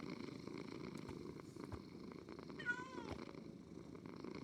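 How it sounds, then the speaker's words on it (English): A cat in the Minecraft video game purrs in a steady, loud, continuous rumble throughout, with a brief higher meow-like tone near the end. "Wow, they actually make like purring noises as well."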